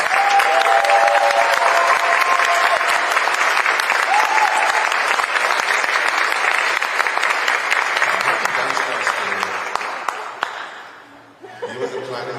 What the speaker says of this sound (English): Let's give her a huge round of applause.